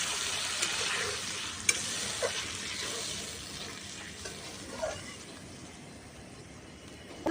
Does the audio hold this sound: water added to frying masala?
yes